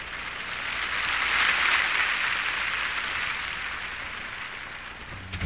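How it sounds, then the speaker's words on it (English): A studio audience claps steadily for several seconds, a broad even wash of applause that swells in the middle and tapers slightly toward the end, with no talking over it. "just clap for Star for a minute"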